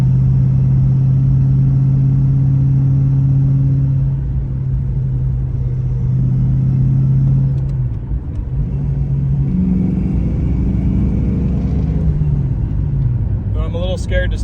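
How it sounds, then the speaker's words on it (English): A Ford Fox Body Mustang drives on a cold day, its engine giving a steady low rumble close by, then easing off and rising again as it moves, with a person talking over it. "Feels pretty good to drive the Fox body."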